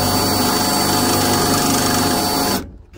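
A drill with a worn bit grinds against aluminum, a loud continuous whirring buzz that fails to bite through and then cuts off abruptly near the end.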